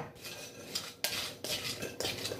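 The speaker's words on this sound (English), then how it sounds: "I'm just going to stir it up." A spoon stirs chocolaty trail mix with chocolate pieces and raisins in a dish, giving a busy run of scraping and metallic clinks against the bowl, with a few sharper knocks, close and fairly quiet.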